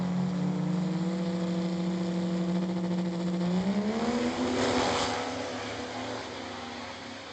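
Diesel 4x4 drag racing trucks launch at an outlaw drag racing finals, their loud engine drone climbing in pitch as they accelerate away, heard from a distance without commentary.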